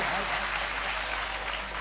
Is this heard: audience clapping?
yes